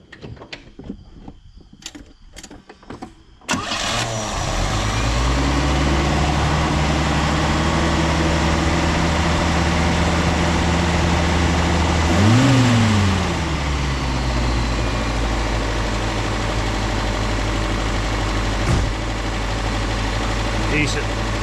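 A Chevrolet Chevette engine, just fitted with a swapped carburetor, cranks and catches after some clicks and knocks, then settles into a loud, steady idle with one brief rev partway through.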